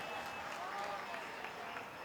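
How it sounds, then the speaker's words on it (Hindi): An audience claps at a Hindi kavi sammelan poetry recital, a steady, fairly faint wash of applause that runs unbroken through the moment. "एक बार अच्छी तालियां।"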